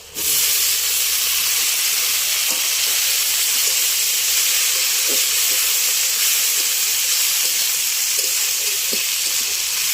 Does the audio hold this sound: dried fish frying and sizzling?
yes